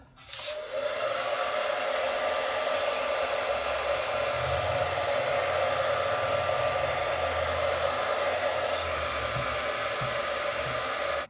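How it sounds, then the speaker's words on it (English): A heat gun or hair dryer warms the adhesive of a carbon fiber emblem on a 2025 Tesla Model Y, a loud, steady close-up blowing hiss and whine running continuously after a quick start. "I'm gonna heat the area just so it softens the adhesive"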